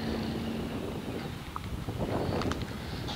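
Wind blowing outdoors while a car sits coated in soap during a wash, a steady rushing rumble with faint flutter and no voices.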